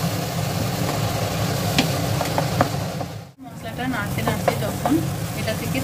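Spice masala being stir-fried for a jackfruit (echor) curry with a splash of water, a dense continuous sizzle broken by sharp spoon clicks against the pan and a brief drop partway through.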